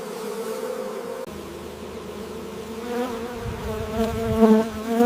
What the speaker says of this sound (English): Dawn awakens the bees before the harvest begins.